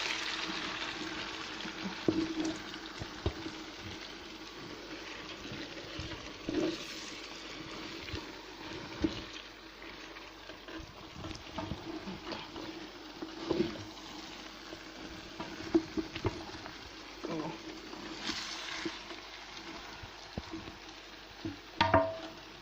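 Carrots and onion stew in a pan while a utensil stirs them, giving soft scraping strokes and irregular clinks over a faint, gentle sizzle, quiet and close with no talking.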